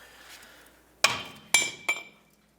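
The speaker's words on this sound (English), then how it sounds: "Let's try and hammer it out one more time." A hammer strikes a rusted rear wheel hub and bearing on a 2006-2011 Chevrolet HHR during a hub replacement. There are three sharp, close metallic blows, each ringing briefly, after a quiet stretch of workshop background.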